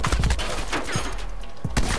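Sharp sniper rifle reports from the video game Call of Duty: Cold War, a few loud, close cracks in quick succession over steady game ambience.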